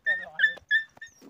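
A dog yelps and whimpers in several sharp, high cries after being struck by a cricket ball during a backyard match at home, loud and close with brief gaps between yelps.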